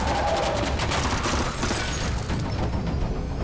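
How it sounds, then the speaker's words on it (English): Gunfire in a film scene crackles in a dense, continuous volley, loud and close, with sharp overlapping bursts and booming reports filling the whole stretch without any talking. "Shots fired, shots fired!"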